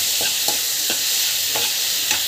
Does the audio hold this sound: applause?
no